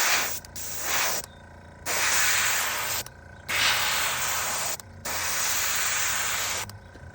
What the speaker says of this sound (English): I think airbrushing something this big is not a good idea